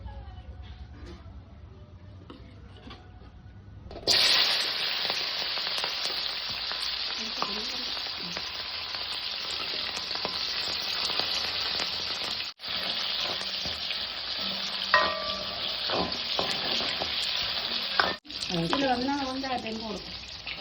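Curry chillies drop into hot oil in a pan and fry with a loud, steady sizzle that starts abruptly and continues with stirring, while a voice speaks faintly near the end.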